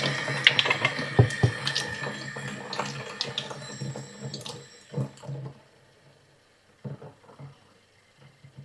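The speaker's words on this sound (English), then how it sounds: "we're going to put it against the faucet, let this thing fill up" Tap water runs into a water filter held against a faucet, a close, splashy trickle and gurgle that fluctuates, then fades into quieter intermittent drips and dribbles.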